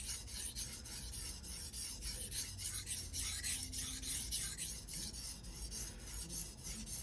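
ZDP-189 core steel Bunka knife sharpened on a Suehiro #1000/#6000 combo whetstone, a steady gritty rasping stroke after stroke, close and continuous with no talk.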